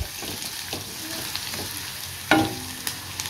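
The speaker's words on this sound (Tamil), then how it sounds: "இப்போ நல்லா வந்து வதக்கி விட்டுடுவோம்" Finely chopped onions sautéed in hot oil for a potato snack, giving a steady low sizzle broken by several soft stirring scrapes and one louder clatter of spoon against pan midway.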